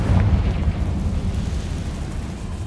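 Fire-blast spell explosion in Hogwarts Legacy, a deep booming blast that rumbles and slowly decays over a few seconds, loud and close.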